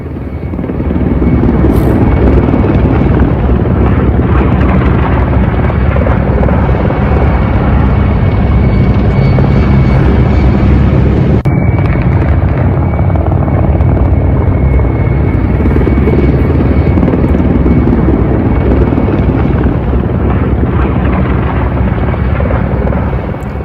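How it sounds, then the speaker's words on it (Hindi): Russian attack helicopters flying over Ukraine during a military assault, a loud, continuous rotor and engine roar that stays steady and close for the whole stretch, with no voices. "अब रशियन हेलीकॉप्टर्स यूक्रेन के डिफेंस इंस्टॉलेशन को निशाना बना रहे हैं"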